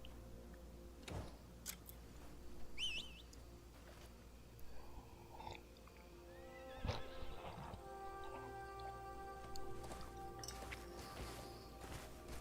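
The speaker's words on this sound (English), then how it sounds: "I think we can call our horse now" Horse in a video game neighing after being called, then clip-clopping hooves trotting closer amid faint ticking game sounds, quiet and without speech.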